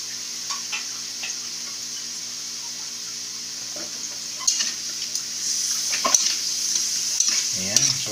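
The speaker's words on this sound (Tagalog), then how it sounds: "gigisa lang natin ng for at least 2 to 3 minutes" Pork liempo cubes sautéing in a pan, a soft steady sizzle with occasional spoon scrapes and stirring clatter growing busier toward the end.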